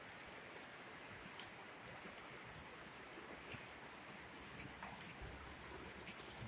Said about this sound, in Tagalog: Ulan, walang tigil na pag-ulan.